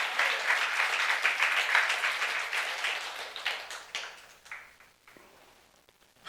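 A church youth congregation applauds during a sermon, the dense clapping strong at first and then thinning into scattered, fading claps near the end.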